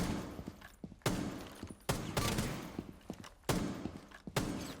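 Gunfire from the tactical shooter Rainbow Six Siege during a warm-up session: several sharp, loud shots in quick succession, spaced about a second apart, with clicks and thuds between bursts and no talking.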